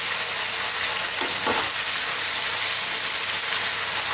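Beef strips with chilli stir-frying in a hot pan, a steady close hiss of sizzling fat running throughout with a couple of faint stirring scrapes, no voices.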